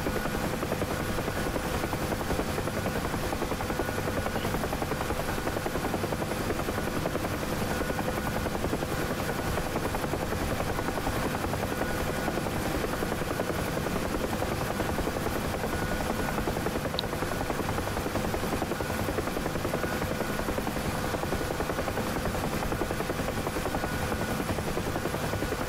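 A Huey helicopter flies in the DCS simulator, its rotor and turbine making a continuous loud droning thrum with a steady whine that stays constant for the whole stretch.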